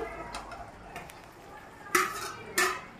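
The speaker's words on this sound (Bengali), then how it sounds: "তো আমি এখানে আস্তে আস্তে করে আর ডিমটাকে আলুটাকে দিয়ে দিচ্ছি" Boiled eggs and potatoes go into a pot of curry for a cabbage dish, giving soft scraping and stirring followed by two sharp metallic clinks of a utensil against the pot, close by.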